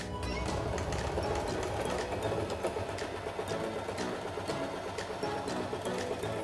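A sewing machine runs steadily throughout, its continuous mechanical whir and rapid stitching clatter close and even while crafting school supplies, with no talking.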